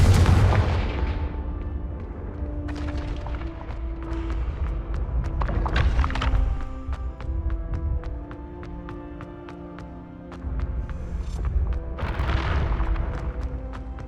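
In the Hogwarts Legacy video game, the Confringo spell sets off repeated explosive blasts, heavy booming bursts with crackling tails separated by quieter gaps, loud and close over game background sound.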